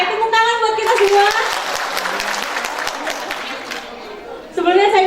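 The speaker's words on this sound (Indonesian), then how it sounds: "tepuk tangan buat kita semua" Audience applause at a community health post meeting, a steady burst of clapping from a room of people lasting several seconds, with a voice speaking briefly before and after it.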